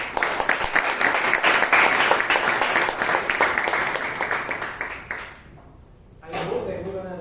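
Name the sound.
audience applause at a Toastmasters meeting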